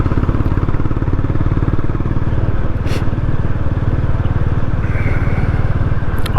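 A Honda GB 350 S motorcycle ridden along a country lane, its single-cylinder engine thumping loud and steady close to the rider with a rapid even beat and constant wind rush, no voice heard.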